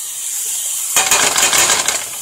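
Zucchini tossed into a pan of browned ground beef, starting with a sudden clatter and then a loud, crackling sizzle that carries on steadily and close by.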